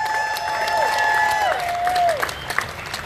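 Applause and cheering from a crowd at an outdoor fish festival, steady and fairly loud, with a sustained whistle or sung tone gliding down through it.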